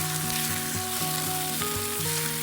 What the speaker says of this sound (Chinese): 热锅下油，加入干葱头和姜片，翻炒出香味，倒入沥干水分的豆腐